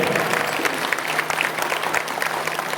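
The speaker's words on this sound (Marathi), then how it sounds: "सगळ्यांनी एकदा स्वतःसाठी एकदा टाळी वाजवा, बरं वाजवा टाळ्या." A seated kirtan audience claps together, a dense, loud, even patter of many hands filling the hall for a few seconds without a break.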